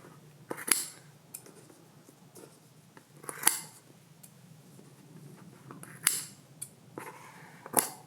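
Scissors snip the fringe of a clove hitch macramé mandala made of cord, four or five crisp, close cuts spaced a second or two apart over quiet background handling.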